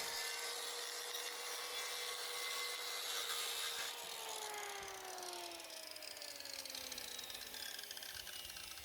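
Plywood being sawn close by, a continuous rasping cut with a gliding tonal whine running throughout and no talk.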